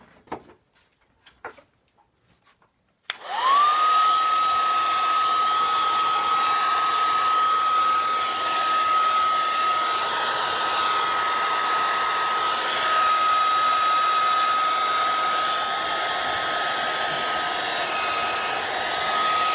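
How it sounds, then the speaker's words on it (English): A basic hair dryer blows onto a palette knife gnome painting, switching on abruptly after a few quiet clicks and then holding a loud, steady close whir with a constant whine for the rest of the time. "I'm going to blow dry this, so please excuse the noise."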